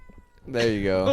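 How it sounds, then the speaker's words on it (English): A pet cat meows near a microphone, a drawn-out, loud close cry following a few soft thumps of the cat bumping the mic; a person speaks briefly at the start. "that was a cat beating the shit out of the mic."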